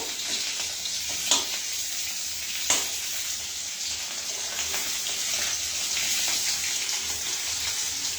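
A steady, hissing sizzle of potatoes frying in a pan runs throughout, with a couple of soft clinks along the way.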